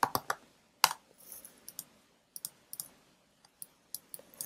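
A computer mouse clicks sharply in Photoshop, giving single clicks and quick pairs spread irregularly over a few seconds, close and quiet with near silence between them.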